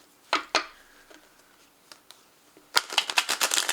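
Tarot cards are shuffled, with a couple of sharp snaps early, scattered light taps, then a rapid riffling flutter of cards at close range toward the end.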